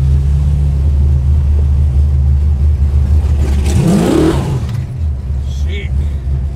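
A Ford XW GT engine revving hard during a street burnout at a car festival, a loud, close, continuous rumble that swells and surges midway, with a voice talking over it.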